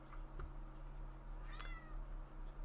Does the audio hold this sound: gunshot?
no